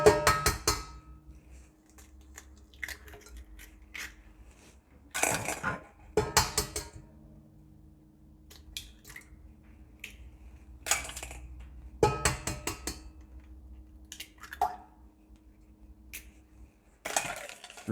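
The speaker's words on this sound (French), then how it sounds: "on commence tout d'abord par casser les œufs dans le robot d'un batteur" Eggs are cracked into a metal stand mixer bowl, making a series of sharp, close cracks and clinks in short bursts with quiet gaps between them.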